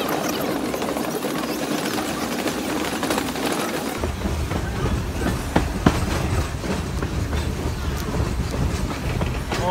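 A train at the Tennessee Valley Railroad Museum rolls along the rails with a continuous rumble and rhythmic clatter, loud and close, with a few sharp metallic clanks.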